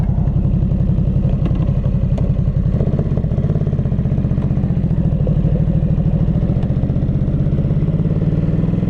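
A 2022 Ducati Supersport 950 motorcycle engine idles steadily up close right after start-up, a rhythmic throbbing pulse with mechanical clatter that rises slightly partway through.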